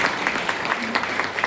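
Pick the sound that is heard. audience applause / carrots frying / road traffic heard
audience applause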